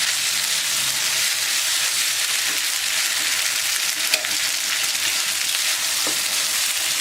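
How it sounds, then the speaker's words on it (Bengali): Capsicum and onion frying in a pan for Thai chicken spaghetti, a steady loud continuous sizzle with faint stirring clicks, no talking. "এবার ক্যাপসিকাম আর পেঁয়াজ কলিটা দিয়ে দিচ্ছি।"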